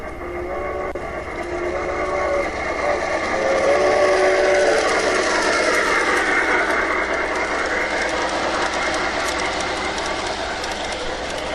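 An outdoor garden railroad model train rolls around a bend with a steady clicking, rattling run of wheels on track, swelling toward the middle and staying fairly close and continuous.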